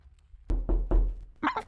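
A door is knocked on in the video game Blue Prince, with three solid thumping knocks in quick succession and a brief further sound right after.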